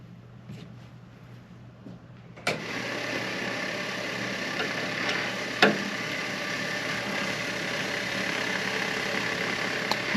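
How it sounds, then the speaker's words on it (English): A 1170 RapidColor conveyor belt switches on with a sharp click, then runs with a steady mechanical whir and hum, a second click partway through, and continuous motor noise to the end. "So what we're going to do is turn the belt on"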